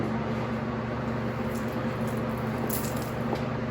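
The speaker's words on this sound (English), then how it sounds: "Dip it in your wash bucket." A wash mitt dunked and worked in a soapy car wash bucket while detailing a Ford Mustang Boss 302 for winter storage; a steady wet squishing and sloshing over constant background hum, close and fairly quiet throughout.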